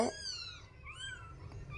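Very young kittens, some with eyes not yet open, give thin, high, wavering mews close by, two overlapping cries over faint background noise.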